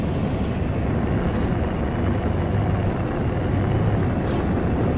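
Spacecraft engine in No Man's Sky roaring steadily as the ship lifts off and flies, a dense broadband rumble with a low drone that holds at constant loudness throughout.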